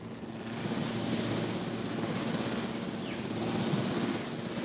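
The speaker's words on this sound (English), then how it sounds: "send that helicopter out" A helicopter in Jurassic World Evolution flies with a steady, dense broadband whir and rumble that holds unbroken throughout and stays moderately loud.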